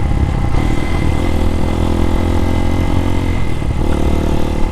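A Can-Am Spyder three-wheeled motorcycle engine runs with a steady, loud, close drone, its low rumble holding even throughout without speech.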